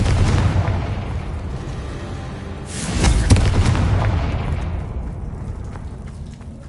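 Bombarda and Confringo explosion spells cast in the Hogwarts Legacy video game: a loud, rumbling burst of blasts with a sharp peak midway, then a long fading rumble and crackle, with no talk.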